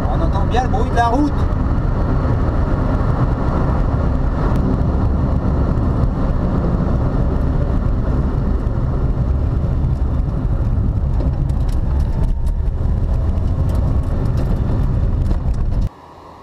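A Renault Clio 16S drives along the road with a loud, steady drone of engine and road noise that holds throughout and cuts off abruptly at the very end.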